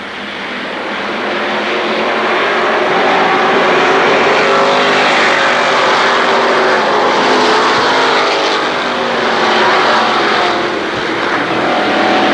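Race cars roar around the Kil Kare Speedway oval during the 1994 Labor Day Championships, a loud, continuous blend of engines swelling and fading as the pack passes, with no voices.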